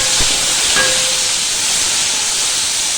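Ginger, garlic, tomato and green chili hit browned onions in a kadai and set off a loud, steady sizzling hiss. A brief clack sounds at the start, and the hiss stays even, close and unbroken.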